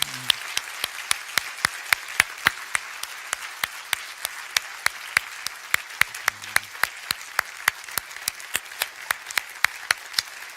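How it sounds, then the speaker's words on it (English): Sparse, evenly spaced handclaps ring out over a quiet room at a conference closing session, a thin round of applause rather than a full crowd. "I'd like to ask you to join me in giving them a round of applause"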